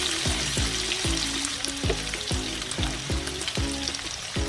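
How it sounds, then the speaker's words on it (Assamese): A steady sizzle of onions frying to brown in a pan, with repeated scraping strokes of a spatula stirring at an even rhythm. "পিঁয়াজখিনি ব্ৰাউন কালাৰ কৰি ভাজি ল'ম"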